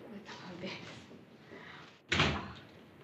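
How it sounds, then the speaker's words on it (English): A door swung open in an apartment during an action film, a sharp thump and rattle near the end that follows a stretch of room tone and faint background noise. "The door's open."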